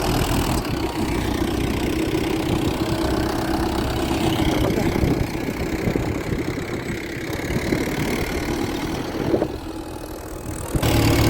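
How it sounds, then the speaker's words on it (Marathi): A tractor engine runs steadily with a low chugging rumble while harrowing a field, close and continuous, shifting slightly in tone as it works, with no voices. "आता मी सुद्धा ट्रॅक्टरवर बसली आहे"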